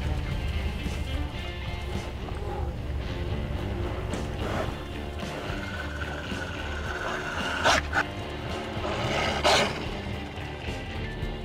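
A wolf in the WolfQuest Anthology Edition video game growls and snarls with canine yips and whimpers during a fight with a boar or grizzly, mixed into steady game ambience with a couple of sharper bursts near the end.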